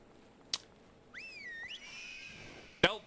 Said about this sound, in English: Don't whistle in my ears!